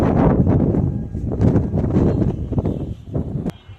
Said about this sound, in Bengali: সুন্দর একটা বাতাস